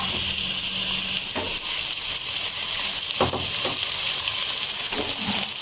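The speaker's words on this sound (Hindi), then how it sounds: "अब हम इसके अंदर मैरिनेटेड जो सा हमने गोश्त किया था वो शामिल कर देते हैं।" Marinated meat goes into browned onions in a hot pan for a dhaba-style chicken masala, giving a steady loud sizzle and hiss. A few clanks of stirring break through the sizzle, and no one speaks.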